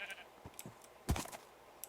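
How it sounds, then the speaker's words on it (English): A sheep in the video game Minecraft gives a short, quiet bleat among soft footsteps and light clicks, with no one speaking. "No, it's just sheeps and pigs"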